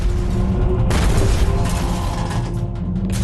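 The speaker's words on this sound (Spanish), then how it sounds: "Una carga de profundidad explota casi al mismo tiempo." A depth charge explodes near a submarine in a wartime naval documentary, a loud deep boom with a sharp burst about a second in, followed by a rumbling, mechanical roar that lingers and flares again near the end.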